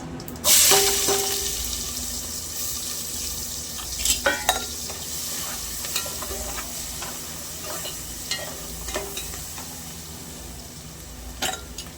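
A bay leaf and onion go into hot oil in a pan, bringing a short burst of frying with light stirring and clinks of a spoon on metal. Scattered taps follow, all under a steady background hum.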